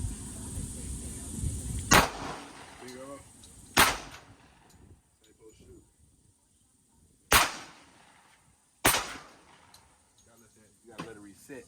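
Four sharp pistol and AR pistol gunshots from a Glock 29 and an AR pistol at a shooting session, spaced irregularly, loud and close with short ringing decays, with people talking quietly between shots.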